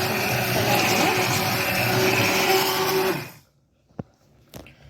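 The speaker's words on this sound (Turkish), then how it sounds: "Robottan geçiriyorum" A food processor whirs loudly and steadily as it purées cooked tomatoes, then cuts off after about three seconds, followed by a couple of faint knocks.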